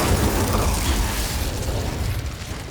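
The Incendio fire spell goes off in Hogwarts Legacy: a loud, broad whooshing roar of flame with a rumbling low end, steady for a couple of seconds before easing slightly.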